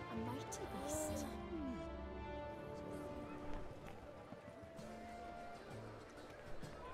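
In The Witcher 3 video game, a horse's hooves thud in a steady running rhythm amid game sounds and music, with someone talking over most of it.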